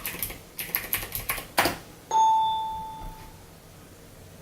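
Typing on a computer keyboard: a quick burst of close key clicks in an uneven rhythm, followed by a bright electronic chime tone that rings and fades; no voices.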